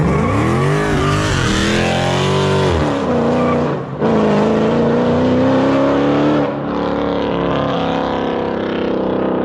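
A loud, raspy Dodge Challenger Scat Pack with long-tube headers and straight-pipe exhaust revs up and down through several long pulls, its pitch rising and falling with a brief drop-off between bursts.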